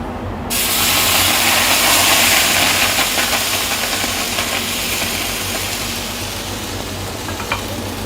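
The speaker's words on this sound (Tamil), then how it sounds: "இப்போ நம்ம தவா சூடாயிடுச்சு, அதில் ஊற்றலாம்." Pumpkin dosa batter hits a hot tawa with a loud, steady sizzle that starts abruptly and continues close up, with no talking throughout.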